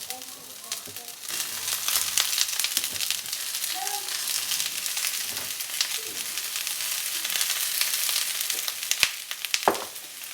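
Zucchini added to a pan where asparagus has been frying, a continuous crackling sizzle with occasional sharper pops and light stirring, while a voice talks over it.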